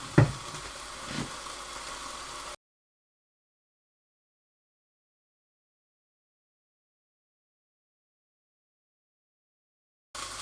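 Thai pork stir fry sizzles in a pan as it is stirred, a close, crackling burst lasting a couple of seconds before the sound cuts out to silence, with a short return of sizzle at the very end.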